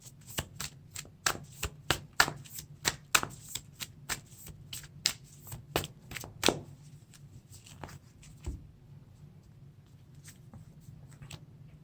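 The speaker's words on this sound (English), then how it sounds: "I get to shuffle these cards into my deck and draw 3 cards" Playing cards for a Lord of the Rings card game are shuffled into a deck, crisp riffling snaps repeating in a quick, uneven rhythm close by, then thinning to a few scattered taps before fading.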